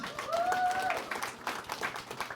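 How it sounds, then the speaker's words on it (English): A crowd at a comedy show at the Crossroads Supper Club in Platteville, Wisconsin claps and applauds steadily throughout, a dense patter of hands, with a brief whistle-like tone near the start. "give her a round of applause"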